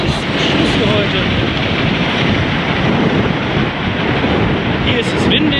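Strong wind blowing outdoors on a freezing night at minus five degrees, a loud continuous roar buffeting the microphone, with broad rushing noise throughout.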